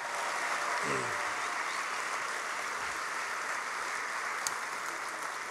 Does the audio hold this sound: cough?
no